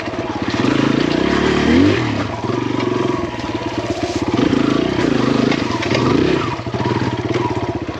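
A Kawasaki KLX140RF dirt bike engine rides over hard rocks, revving loud and close with a pulsing, uneven throttle and a rattling chassis throughout.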